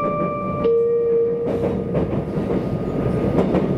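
A train on the Wakayama Line approaching Funato station, heard from inside the carriage as a steady rumble of wheels on rail with a rhythmic clatter and a sustained squealing tone.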